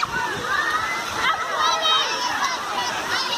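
Child splashing and sloshing in a water park pool, steady churning water noise up close with lively crowd babble and children's voices mixed throughout.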